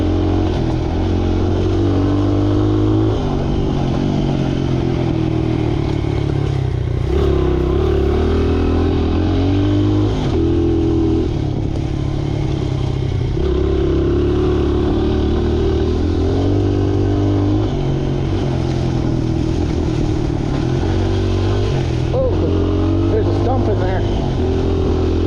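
A small trail motorcycle rides along wooded trails, its engine droning loud and close with shifting pitch as the rider rolls on and off the throttle, and someone talks over it.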